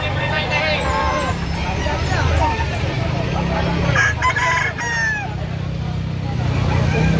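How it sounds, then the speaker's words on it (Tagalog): Roosters and gamecocks at a poultry market in Lipa City, Batangas, crow and cluck repeatedly at mid distance beneath steady crowd chatter and nearby talking, with some traffic noise in the background. "Ito yung mga manok dito ng mga mapagpipilian oh."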